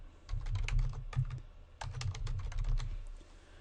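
Rapid bursts of key presses on a computer keyboard as a password is entered, two quick runs of clicking separated by a short pause, close and clear with no talking.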